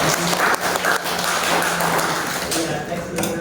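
A school class claps during a microteaching lesson in a classroom, dense, steady applause over a few seconds with voices mixed in underneath.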